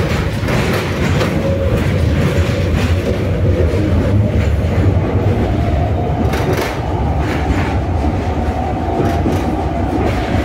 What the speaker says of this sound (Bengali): ট্রাম ছেড়ে দিল। সবচেয়ে পুরাতন ট্রাম